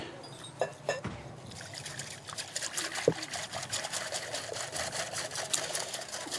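Milk pours into a bowl of eggs for pancake-style batter, a soft continuous liquid trickle and splash lasting several seconds, with occasional clinks of the bowl and faint background noise, no one talking.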